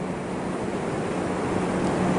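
Ocean surf rolling onto the beach at Coos Bay, a loud continuous wash of breaking waves with wind buffeting the microphone throughout.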